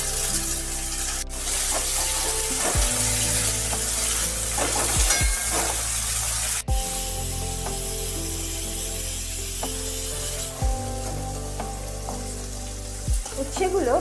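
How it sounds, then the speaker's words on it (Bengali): Bitter gourd pieces fry in mustard oil in a wok, giving a dense, continuous close sizzle with occasional sharp clicks and stirring scrapes throughout. "এদিকে আমি কড়াইতে দিয়ে দিচ্ছি ভাজার জন্য, উচ্ছে ভাজার জন্য পরিমাণ মতো সর্ষের তেল।"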